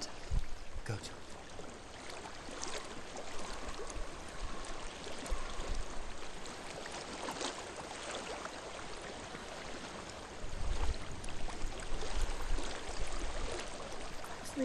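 Flowing stream water in Hellblade: Senua's Sacrifice, a continuous close trickling and babbling wash that grows louder toward the end, with faint sounds layered over it.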